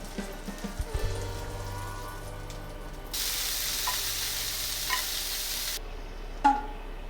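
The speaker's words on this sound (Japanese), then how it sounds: "弱火にしてこのままじっくりじっくり蒸し焼きに" Cabbage rolls steam-fry in a pan over low heat, a soft steady sizzle and hiss that swells as water hits the hot pan, with a few clinks and stirring noises close by.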